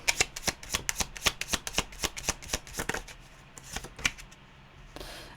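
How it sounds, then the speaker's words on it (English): A deck of tarot cards being shuffled up close, giving quick, crisp riffling bursts in a regular rhythm that slow toward the end. The sound is fairly quiet and no one speaks. "We're going to take a card from the shitty deck."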